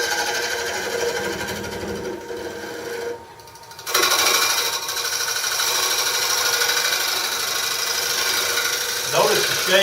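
Wood lathe turning a bowl with a gouge at a woodworkers club meeting, a steady continuous whirring and scraping cut that dips briefly and then resumes, close by and fairly loud.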